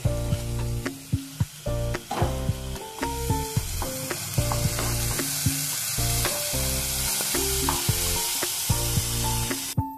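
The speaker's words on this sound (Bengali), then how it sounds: "এর মধ্যে আমি এই আদা রসুন বাটাটা আমি দিয়ে দিলাম।" Ginger-garlic paste hisses loudly as it hits frying onions in oil for palak chicken. A dense, steady sizzle fills the whole stretch, punctuated by frequent spatula knocks and scrapes against the pan, all close up.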